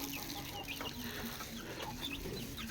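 Chickens cluck softly in short bursts over a steady outdoor hum, a few calls overlapping at moderate distance.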